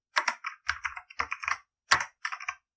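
Fingers tap quickly on a computer keyboard, a close series of crisp clicking keystrokes in short bursts with brief pauses between them, alone in a quiet room.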